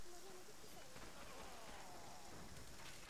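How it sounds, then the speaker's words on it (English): Steady, dense rain hisses throughout, a broad wash of drops on a surface that fills the whole stretch at an even level, with faint voice-like traces mixed in. "Yes, that is the rain"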